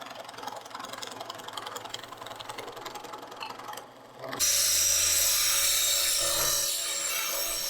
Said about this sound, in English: You just be burring these, taking off all the rough edges, and then putting this slight little bevel on them.